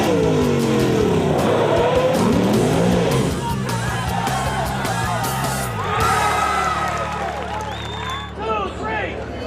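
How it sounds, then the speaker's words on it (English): A drill team racing truck roars past at over 70 mph and then slams on its brakes, its engine loud and continuous with tire squeal and a crowd cheering underneath. "The C truck reaches speeds of over 70 miles an hour before slamming on the brakes to make the drop"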